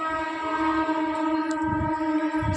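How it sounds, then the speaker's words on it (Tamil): A sustained, droning train horn with steady harmonic tones near a station, close and fairly loud, over low rumbling of rail traffic. "ஸ்டேஷன் பக்கத்தில் இருக்கா, அதனால் ட்ரெயின் சத்தம்லாம் கேட்குது."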